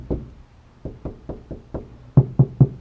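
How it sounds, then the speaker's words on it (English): Dull knocks on a car body panel lined with sound-deadening foam, about ten close, deadened thuds in an uneven rhythm, the last three louder. "and then we'll do a knock test here."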